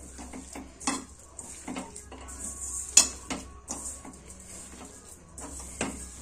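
A batter of sugar and date palm jaggery is mixed by hand in a pot, with repeated clinks and scrapes of utensil against the pot at an uneven rhythm, close and fairly clear, with no talking.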